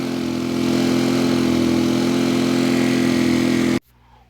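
A Champion 4500 quiet inverter generator runs at a steady, even hum while warming up, close and constant, until the sound cuts off abruptly near the end.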